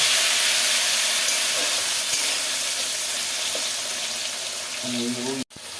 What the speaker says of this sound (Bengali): গরম মশলাটা না ভীষণ ভীষণ ফাটে শুনতে পাচ্ছি কিরকম ফাটছে